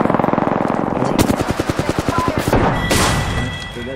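Rapid automatic gunfire in the video game Apex Legends: a dense, loud stream of shots with a fast rattling rhythm that stays continuous for about four seconds, while a voice speaks over it.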